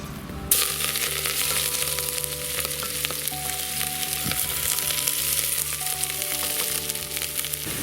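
Nettles and wild garlic frying in a pan, a steady close sizzle that kicks in suddenly and keeps crackling throughout, with occasional light clinks of stirring.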